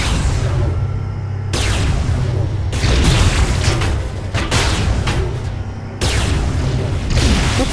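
Explosions and heavy booming from a tower being destroyed in the video game Saints Row IV, several loud blasts rolling over a dense background of game noise, with bursts around the three-, five- and seven-second marks.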